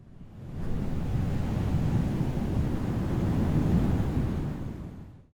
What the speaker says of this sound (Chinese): 第二个音效则是持续不断的风声降为缓和